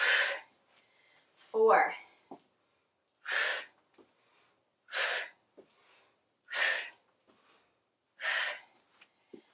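Heavy, forceful breaths come in regular bursts, roughly one every one and a half seconds, close and loud, from a person doing weight-lifting drop sets, with brief speech early on.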